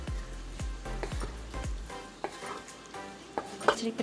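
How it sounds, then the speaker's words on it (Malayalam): Soaked cashew nuts being sautéed in a pan on a stove for a mutton curry, with a series of sharp metallic spoon scrapes and taps against the pan over a soft, steady sizzle. "അതൊന്ന് വഴം നിറം വരെ നല്ല ഒന്ന് മൂത്ത് വരുന്നിടം വരെ സ്റ്റൗവിലിട്ട് വഴറ്റി"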